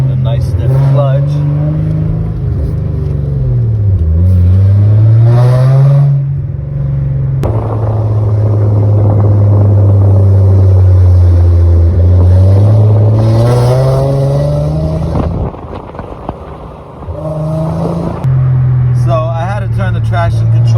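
A red Genesis with a manual clutch and traction control off revs hard while driving, its engine drone rising and falling through gear changes, loud and close, with someone talking over it.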